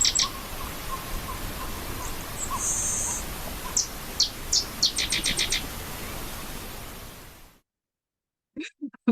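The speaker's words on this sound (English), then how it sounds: "the Virginia rail sounds like a guinea pig" Marsh soundscape with bird calls including a Virginia rail, squeaky piglet-like notes and clusters of high chirps over a hissy background, ending abruptly in silence before a couple of faint calls.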